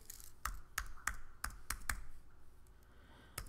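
Quick irregular bursts of keystrokes on a computer keyboard, about six crisp clicks in a cluster and then one stray tap, close and clear over a quiet room.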